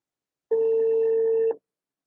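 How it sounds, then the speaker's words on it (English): A telephone rings once: a steady, clean electronic tone lasting about a second, loud and alone against silence. "Someone pick up the fucking phone."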